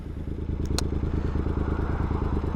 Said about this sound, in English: the bike is running okay. Yeah, it's running.